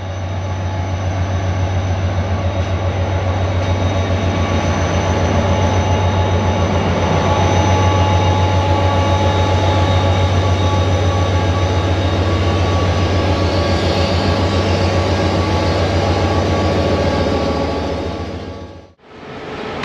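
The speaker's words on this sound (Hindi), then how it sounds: "चलें इस EMD लोकोमोटिव की आइडल साउंड सुनते हैं।" An EMD diesel locomotive of Pakistan Railways idles at Rohri Junction with a loud, close, steady low rumble and throb. The sound stays unbroken for about nineteen seconds and then cuts off abruptly.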